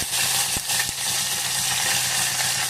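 Mustard seeds, cumin, garlic and curry leaves frying in hot oil, a steady close hiss and sizzle that runs throughout, broken by a few sharp pops and crackles near the start.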